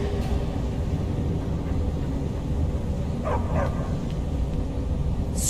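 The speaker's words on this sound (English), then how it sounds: "Don't mind the dogs. They get anxious when they haven't had dinner." Dogs yipping and barking faintly in a Skyrim video game scene, a couple of brief yelps over a steady low rumbling background.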